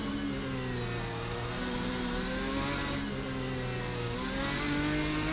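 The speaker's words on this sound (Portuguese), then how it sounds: "E óbvio que numa réplica de Ferrari eles iam caprichar lindamente também no som." Ferrari-replica race car from a GT mod pack in Assetto Corsa, its engine revving steadily and loudly throughout, with rising and falling tones as it climbs through the revs and shifts gears.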